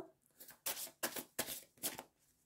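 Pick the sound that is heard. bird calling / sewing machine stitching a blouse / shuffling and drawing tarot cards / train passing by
shuffling and drawing tarot cards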